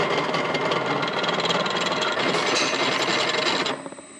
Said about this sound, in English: the drill kept catching and spinning the washer inside the vise